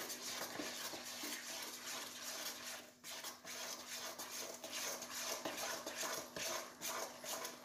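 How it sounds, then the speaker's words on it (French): A soup spoon whisks eggs together with flour in a bowl for crêpe batter, giving a steady, close run of quick scraping clicks against the bowl with no talking. "on vient, avec la cuillère à soupe, mélanger le tout avec les œufs"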